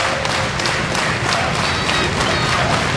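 Wrestling crowd in Spotsylvania cheering and applauding, a steady dense roar of clapping and shouts throughout, fairly loud and continuous with no clear talk over it.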